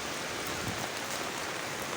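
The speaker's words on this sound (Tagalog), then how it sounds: "Ay, ulan. Nalakas ulan." Steady, dense rainfall hisses down, an unbroken wash of water drumming on surfaces.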